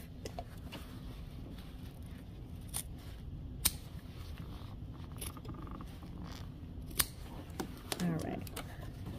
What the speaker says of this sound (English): And I'm going to clip this remaining part of the zipper off.